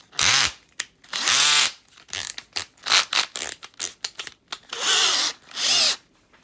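A Bosch 5010 cordless screwdriver whirs in a series of short start-stop bursts, its motor pitch rising and falling with each trigger pull, close and loud.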